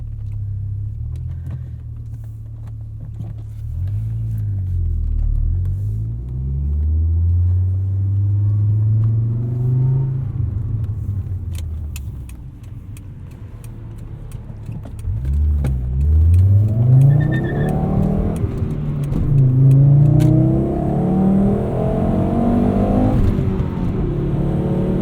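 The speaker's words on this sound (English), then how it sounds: "Acceleration there for you." A Volvo 850 R with a five-speed manual gearbox accelerates hard, its engine note climbing steadily, dropping at a gear change, then rising again through the next gear. The engine is loud and close, with no talking.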